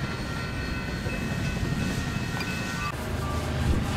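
A westbound Union Pacific train approaches on the Clinton Sub near Montour, Iowa, a steady broadband rumble of rolling wagons holding at moderate distance with faint tonal whine above it, no talk.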